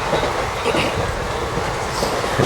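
A passenger train runs on rails with a continuous loud rumble and rattle heard from inside, steady and unbroken, with no talk over it.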